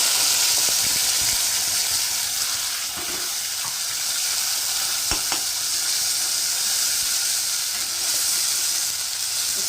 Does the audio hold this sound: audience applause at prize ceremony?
no